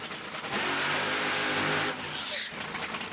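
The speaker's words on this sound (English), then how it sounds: "Both drivers doing short burnout, shorter than normal." Drag racing funny cars doing short burnouts on a warm track, a loud sustained roar of engines revving at full throttle that drops back after about two seconds, with crowd and track noise continuing.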